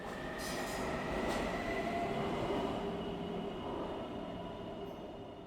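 A subway train in a video game rolls along with a steady rumbling roar and a faint high whine, continuous and fairly loud throughout.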